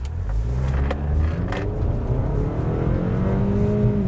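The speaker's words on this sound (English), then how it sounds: "if I hit the gas because I need to get moving, that the car is going to respond appropriately" A car sold at a dealer auction accelerates hard when the gas pedal is pressed, its engine note climbing steadily through a continuous, fairly loud rumble over about four seconds, with no talking.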